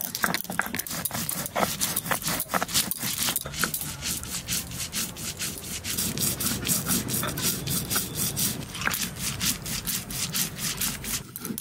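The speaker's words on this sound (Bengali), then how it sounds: "কাঁচা লঙ্কা দিয়ে সর্ষেটা বেটে নেব।" Rhythmic rubbing and scraping of mustard seeds being ground with green chilli on a grinding stone, repeated strokes close by, sharper at first then settling into a steady back-and-forth.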